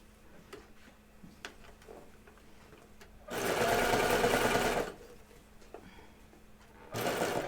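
A sewing machine stitches a tuck into the ribbing on a pair of pants in two bursts, a long steady run of about a second and a half and then a shorter one, with quiet ticks and handling between.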